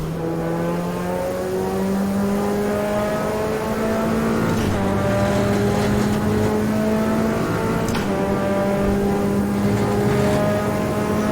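A BMW X5 on fresh tires pushed hard around a race track, its engine droning loud and close with steady revs rising and dipping through gear changes and turns, no talk over it.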